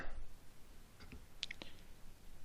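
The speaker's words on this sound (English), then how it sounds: "So it says press return on your keyboard to continue." A return key is pressed on a computer keyboard, giving a few faint, quick clicks over quiet room hiss.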